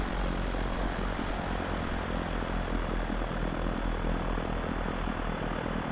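Steady droning propeller engine of a light aircraft idling at 1000 RPM in the X-Plane flight simulator, a constant loud hum with a low rumbling base throughout, no voices.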